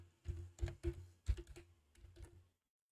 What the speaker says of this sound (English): Let's type our text first.